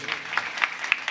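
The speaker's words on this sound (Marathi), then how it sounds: "जरा जोरात टाळी वाजवा म्हणजे थंडी सुद्धा पळून जाईल" A kirtan audience claps in rhythm, a brief run of evenly spaced group claps heard at moderate distance.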